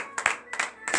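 A church congregation claps in rhythm during a morning prayer service, three quick bursts of hand claps, close and moderate in volume.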